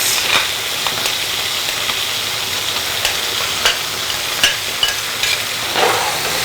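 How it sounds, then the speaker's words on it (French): Onion stirred in a hot frying pan gives a loud, steady close-up sizzle with scraping stir accents every second or so, and no talk over it. "L'oignon bien mélangé."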